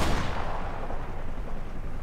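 Dense, continuous gunfire and booming blasts from Call of Duty: Modern Warfare Remastered, shooting at helicopters, loud and sustained throughout with no pauses.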